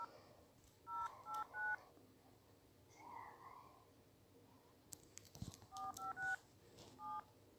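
Phone number dialed on a touch-tone keypad, two quick bursts of short DTMF beeps separated by a pause, faint and close with soft whispering and handling noise.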